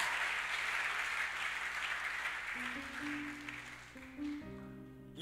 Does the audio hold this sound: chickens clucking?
no